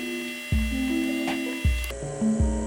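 A small drill bit bores into a handmade wristwatch balance wheel part, giving a steady machine whine that shifts pitch in steps, punctuated by several dull low thumps, close and fairly loud with no talking.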